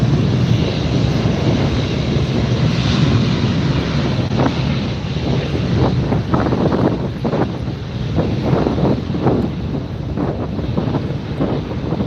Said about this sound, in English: What you're looking at right now is Delta Airlines Flight 708 getting ready to head out to Detroit. This is an Airbus 321.